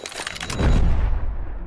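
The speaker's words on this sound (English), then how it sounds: "it's a bolt action sound effect." A bolt-action rifle sound effect: a short mechanical bolt clicks and slides, followed by a deep booming burst that fades out, loud and close.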